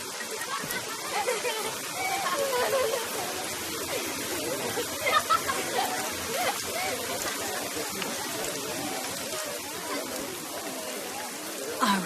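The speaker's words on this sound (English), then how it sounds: "Look at this rain." Steady rain falls in a dense, even hiss, loud and continuous with scattered sharper drops, lasting the whole stretch with no pause.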